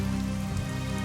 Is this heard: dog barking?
no